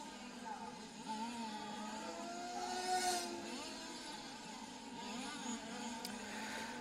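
Large scale model RC cars race around a track at the EFRA Euros qualifying, their engines a continuous distant whining drone with rising and falling pitch as the cars pass, faint under the ambient hum.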